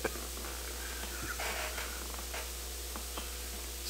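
A cat purrs close up indoors, a faint, low, continuous rumble under a steady hum, broken by a few soft rustles and clicks.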